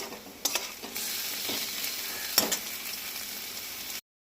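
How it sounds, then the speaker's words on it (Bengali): Ginger garlic paste and onion sizzle in a pan for a spicy egg curry while a spoon stirs and scrapes, giving a steady close frying hiss broken by a few sharp clanks of the utensil. "এই আদা রসুন বাটাটা দিয়ে এবার এই পেঁয়াজটা দিয়ে ভালো করে ভাজা ভাজা করব"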